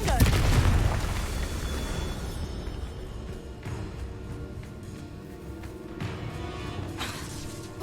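A Confringo fire spell blasts in the Hogwarts Legacy video game, giving a loud booming burst at the start, then rumbling crackle and more impacts through a dense, busy game soundscape.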